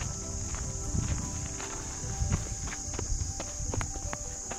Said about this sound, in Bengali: এখানে আমাদের পায়ের আওয়াজ আর এই ঝিঝি পোকার আওয়াজ ছাড়া একটা সিঙ্গেল সাউন্ড শুনতে হবে না।